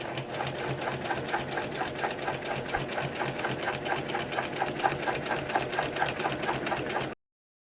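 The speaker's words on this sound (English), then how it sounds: "we are going to top stitch these seams open" A sewing machine top stitching bag lining seams open, running in a fast, steady rhythmic chatter of needle strokes, close and continuous before stopping abruptly.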